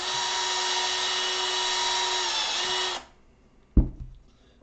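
A power drill with a drill bit bores a hole for a servo mount on an Arrma Granite Voltage RC car, a steady high whine running for three seconds before it cuts off, followed by a single knock.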